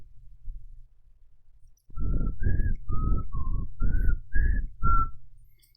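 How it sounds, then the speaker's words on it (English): Someone whistles a short tune of seven clear notes in an uneven rhythm, close and fairly loud, after a quiet stretch. "I can't whistle too well right now."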